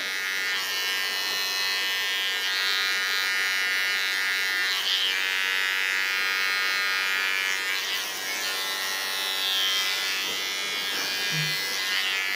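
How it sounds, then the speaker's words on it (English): An electric hair clipper cuts fine hair during a pixie haircut, giving a steady high buzz that runs almost unbroken and wavers slightly as the blades move through the hair, close to the microphone with no talk. "You can do this with a clipper"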